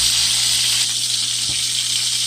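A steady, close hiss and sizzle of fish frying in hot oil continues throughout, with faint clicks and a low hum underneath.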